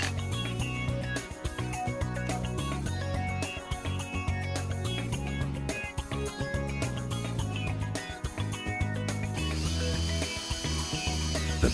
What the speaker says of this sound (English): Here too, first pre-drill and then screw together.